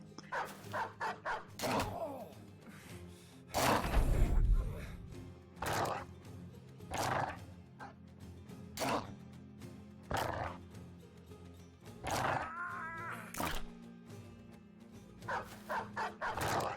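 A pack of dogs barking in the video game Battle Brothers, repeated sharp barks and growls in irregular bursts over a low game backdrop, with one louder snarling clash in the middle.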